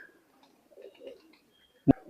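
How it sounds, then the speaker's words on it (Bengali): Soft, low coos of high-flying pigeons murmur faintly in a quiet space, followed by a brief sharp knock or flutter near the end. "টপ কোয়ালিটির এক পেয়ার কবুতর চীনা কামাগার"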